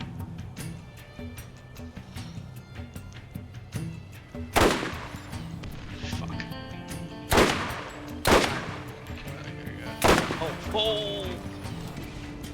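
Rocket turrets fire in Borderlands GOTY Enhanced, with loud booming blasts at irregular intervals over continuous game gunfire and ambience. A man exclaims once.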